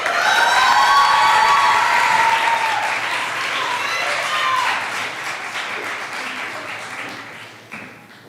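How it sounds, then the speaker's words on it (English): A crowd at an open mic for writing fellows bursts into loud applause mixed with high-pitched cheers and whoops, the cheering fading while clapping continues more softly, tapering near the end. "Let's give another round of applause for all our fellows from the Fiction Pod."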